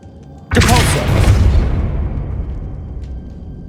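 A Depulso force spell in the Hogwarts Legacy video game goes off as a sudden loud booming blast, followed by a rumbling decay that fades slowly over the next few seconds, with no talk.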